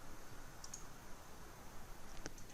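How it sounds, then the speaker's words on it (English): A computer mouse gives a couple of faint, sharp clicks while pressing a Delete button, set against quiet room hiss. "at the bottom right of the screen I will click Delete"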